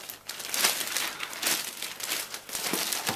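Plastic packaging around an iPad 2 being cut open with scissors, heard as close, bursty crinkling and snipping that rises and falls in several quick waves over a few seconds.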